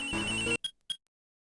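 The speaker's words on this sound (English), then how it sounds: "Oh, I'm getting a call too." A cell phone rings in the Ace Attorney video game, its ringtone cutting off abruptly, followed by two short electronic beeps before silence.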